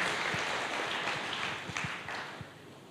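Congregation applause at a church sermon, a steady broadband wash of clapping filling the room throughout, with a few sharper individual claps standing out.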